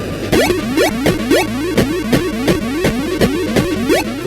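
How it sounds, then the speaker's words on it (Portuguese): Space Invaders on an Atari console, with steady repeating electronic thumps and zigzagging buzzy tones in a fast, regular marching rhythm over a constant noisy hum, loud and without voices. "Esse é o som do Space Invaders."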